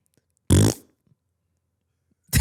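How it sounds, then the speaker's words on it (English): A person makes a fart noise with their mouth, a single loud, wet, buzzing burst lasting about a third of a second, followed by silence and the start of another burst at the end. "I made the fart noise"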